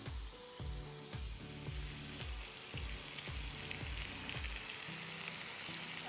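Charred salmon sizzles in a hot pan, a steady crackling fry that runs evenly for several seconds beneath a rhythmic thumping backdrop, with no talking.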